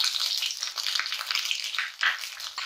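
Halved bird's eye chillies and curry leaves frying in hot oil, a steady bright sizzle and crackle with small spits and stirring bursts throughout, close and moderately loud.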